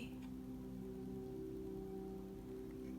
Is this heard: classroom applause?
no